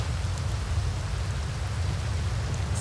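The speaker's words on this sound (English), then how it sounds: "Let's get out of the rain first." Steady, dense rain hiss in the video game Red Dead Redemption 2 pours on without pause, heavy in the low rumble, with no voices.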